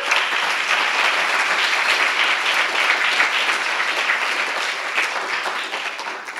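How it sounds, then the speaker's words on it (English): An audience gives a sustained round of applause for a panel on plastics in the sea, a dense, even wash of many hands clapping that carries on steadily and tapers slightly at the end. "Can we give them a round of applause?"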